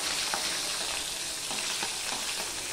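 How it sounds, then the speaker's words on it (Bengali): Steady, close sizzling of small bata fish frying in hot mustard oil, with a few soft pops and crackles rising above the constant hiss; no voices. "এবার এপিট ওপিট করে মাছগুলো আমি ভেজে নেব"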